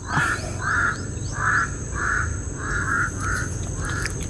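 Crows calling near and loud: about eight harsh caws in a steady, evenly spaced series over a constant background hum, with no talk.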